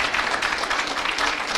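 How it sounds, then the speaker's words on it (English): A festival summit audience in a hall in Yerevan gives a warm round of applause, dense, steady clapping from many hands filling the room throughout. "You have a warm applause."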